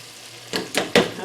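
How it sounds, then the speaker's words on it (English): Shrimp frying in hot fat while being pushed under, a close sizzle with three quick bursts of splashing crackle over a low steady hiss. "Let me get that shrimp under the fat."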